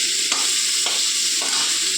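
Boneless chicken fries in a pan with a steady, close sizzle that holds for about two seconds, with faint stirring scrapes and no voices.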